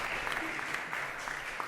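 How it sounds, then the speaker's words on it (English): Steady applause from an audience at a national birthday celebration event for a doctor who led a question and answer session, a continuous dense patter of clapping with no talk. "Give him a round of applause."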